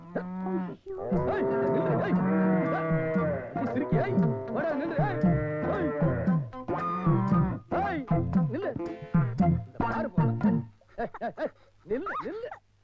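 A cow moos repeatedly in a Tamil comedy scene: long, loud, wavering lowing calls that run back to back, then break into shorter bursts toward the end, close and prominent.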